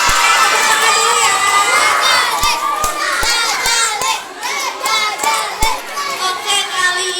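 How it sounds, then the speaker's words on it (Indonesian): Children at a dental and oral health outreach session shout and cheer loudly as a crowd, with sharp hand claps scattered through the noisy, sustained burst of young voices. "Tepuk tangan dulu Kak."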